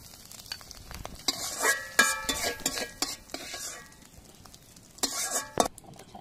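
Salted egg fried in a little oil in a pan, stirred with a utensil, gives a run of close, uneven scraping and clinking strokes over a soft sizzle, with short pauses between bursts.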